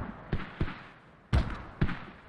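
Mortar fire in a multiplayer war game match on the Mutaha AAS map, heard as four separate dull thumps at uneven intervals, moderately distant over a low background rumble.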